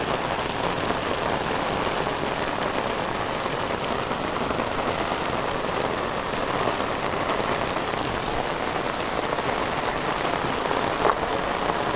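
Heavy rain pours steadily during a flood, a dense, even hiss of drops drumming on surfaces with no break and no voices.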